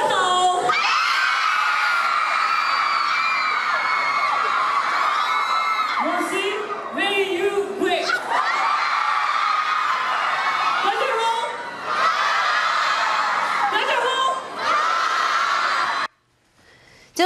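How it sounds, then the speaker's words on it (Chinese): Excited fans scream, whoop and cheer loudly at a comic expo in Taipei's World Trade Center during an Attack on Titan voice actor's appearance, with shrill overlapping shouts rising and falling in waves before a sudden cutoff near the end. "让现场的粉丝疯狂大叫"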